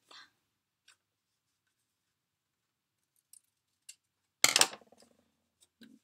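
Scissors cut paper for a handmade journal embellishment in one brief, close snip-and-crunch burst, with a few faint ticks and rustles before and after in an otherwise quiet room.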